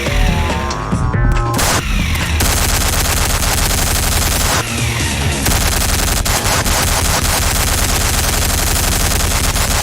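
Rapid sustained minigun fire in Garry's Mod, loud continuous mechanical bursts with brief gaps, dense and close, no talking.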